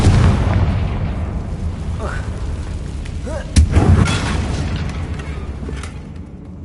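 Confringo fire-explosion spell cast at a damaged bridge in Hogwarts Legacy: a rumbling boom with a sudden louder blast and crackle midway, over game ambience.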